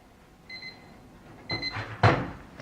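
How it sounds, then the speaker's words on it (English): A kitchen timer goes off while bars are baking, sounding two brief electronic beeps about a second apart, faint and close, followed by soft clattering handling noises. "That's the timer."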